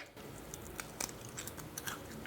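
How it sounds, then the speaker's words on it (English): Crunchy homemade coconut bacon being chewed up close, a steady crackling grind broken by several sharp crunchy bites, with no talking. "There's the chew, just like you would have with bacon with like the fat, but then also the crunch."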